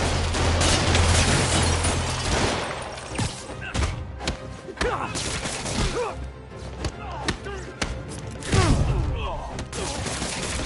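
Bursts of gunfire from criminals in the Marvel's Spider-Man video game crackle alongside heavy thumps and impacts in a dense, loud, continuous combat mix, with game voices heard through it.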